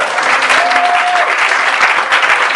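Church congregation applauding during a worship service, steady dense clapping throughout with a brief sustained tone briefly audible beneath, no clear talk.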